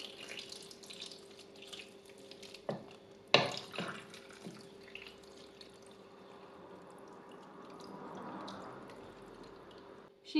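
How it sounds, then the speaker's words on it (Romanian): Water poured from a tap into a pot of vegan stuffed peppers, a soft running and trickling with a few clinks of the pot, faint and close, with no talk. "Apoi adăugăm apă cât să acoperim puțin ardei."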